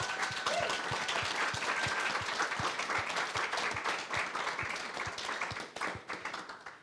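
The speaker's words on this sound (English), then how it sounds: "So can we make Candice welcome?" Audience applause welcoming a speaker at a regional music industry panel session in Bendigo, Victoria: steady, dense clapping from a crowd filling the room, loud and sustained, tapering slightly near the end.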